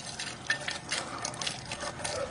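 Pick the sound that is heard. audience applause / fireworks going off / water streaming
water streaming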